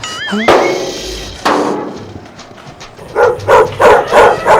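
A dog barks in a quick string of four or five loud, close yaps near the end, after a whistle-like tone and a couple of sharp knocks earlier.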